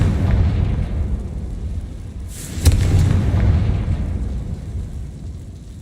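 A single booming explosion from the Confringo spell in the Hogwarts Legacy video game bursts out midway over a low rumbling background, then fades into a sustained roar.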